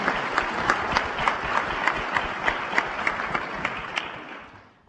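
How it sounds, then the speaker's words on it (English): An audience at a White House back-to-school cybersecurity event applauds in a steady round of clapping that fades out at the end. "as the applause noted"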